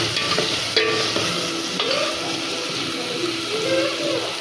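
A spoon stirs thick gravy for dum aloo in a pan over heat, scraping and swishing repeatedly over a steady bubbling sizzle. The sounds are close, with no talking.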